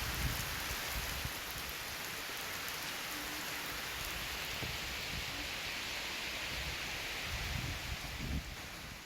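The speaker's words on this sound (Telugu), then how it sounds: "పలుచోట్ల ఈదురుగాలులతో కూడిన వర్షం కురిసింది." Steady rain falls with gusty winds during a storm in Telangana, a continuous broadband wash of drops and wind noise that holds evenly throughout at moderate level, with no voices.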